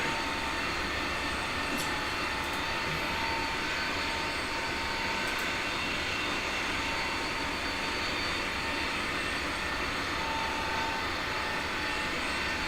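Steady, even jet engine roar from an Airbus A320neo airliner in Microsoft Flight Simulator, a continuous broadband hum with a faint high whine, unchanging and heard alone throughout.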